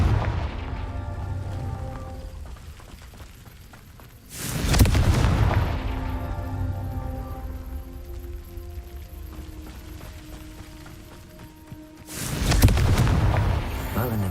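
Two loud blasting-spell explosions in a Harry Potter video game, each a sudden booming burst that fades slowly, separated by several seconds of quieter ambient game music.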